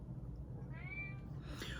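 A pet cat gives a single drawn-out meow near the microphone, rising and then falling, with faint background hum and no talk over it.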